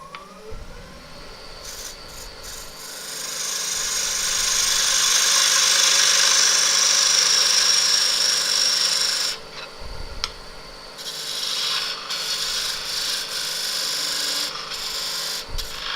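A wood lathe turning a square tenon on the end of a monkey puzzle end-grain bowl blank, the gouge giving a continuous rasping, scraping cut that swells, breaks off briefly, then resumes, with the lathe's low hum beneath.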